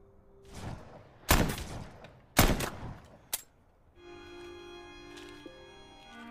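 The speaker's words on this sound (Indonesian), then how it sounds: "Satu tembakan menembus kepala In-suk, satu lagi menghantam dada Jae-ho" Three sharp, loud bangs in quick succession, the last shorter, then a low sustained musical drone takes over.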